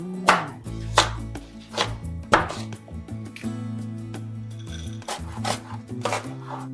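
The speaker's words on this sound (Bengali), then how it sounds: "তাহলে চলুন এখন আমরা সবজিগুলো কেটে নিই।" Knife chopping cauliflower, pumpkin, beans, carrot and potato on a board for vegetable khichuri, with sharp distinct strikes spaced unevenly over steady background music, close and moderately loud.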